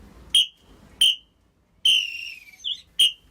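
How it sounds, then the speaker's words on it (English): A referee's whistle sounds at the end of a play: two short, sharp blasts, then a long sustained one that wavers, then a final short blast. It is loud and close, with silence between. "there's the final whistle in this section of the programme"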